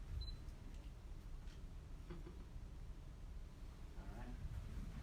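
A camera shutter clicks once near the start, a faint short snap at an office award ceremony amid low room noise and murmuring.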